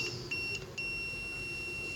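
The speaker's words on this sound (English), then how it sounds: "See how it beeps?" A multimeter continuity beep starts with a few brief chirps, then holds as a continuous high tone against quiet background hiss.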